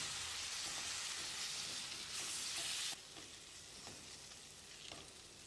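Steady sizzling of garam masala frying in a pan, with occasional scrapes from stirring; the hiss drops to a softer level partway through.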